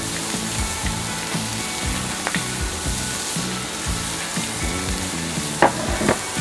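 Sliced onions sizzle in oil on a flat grill for smash burgers, a constant close hiss with a low rhythmic hum beneath and a few sharp scraping clicks near the end.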